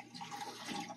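Navien NCB-240E combination boiler purging water during a water pressure error, giving a steady, moderately quiet rushing and gurgling flow of water through the unit with no talk over it.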